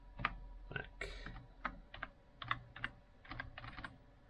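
Close, quiet typing on a computer keyboard during a Windows 11 install on a Ryzen PC, with a dozen or so sharp key clicks arriving in short uneven bursts, alone with no talk.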